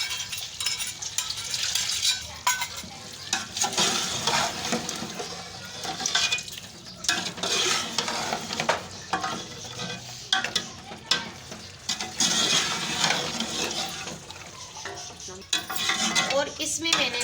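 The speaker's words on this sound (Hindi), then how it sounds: "फिर हम सारे मसाले को भून लेंगे" Spices frying with beef trotters in a pot, a dense close sizzle broken by frequent spoon scrapes and metallic knocks against the pot in an uneven stirring rhythm, no speech.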